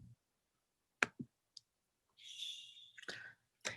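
A single sharp computer mouse click on a website's continue button, a close, dry tick standing alone in quiet, followed by faint scattered noises.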